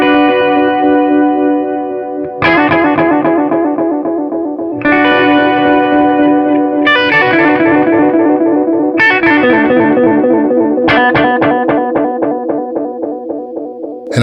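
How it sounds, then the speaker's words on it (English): Electric guitar through a Belle Epoch Deluxe pedal with medium chorus modulation, loud sustained chords struck several times, each ringing out with wavering shimmer and echo trails. "Now I can add modulation to it, sort of a medium chorus type sound."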